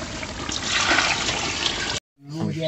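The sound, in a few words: pouring water into soaking rice for chicken biryani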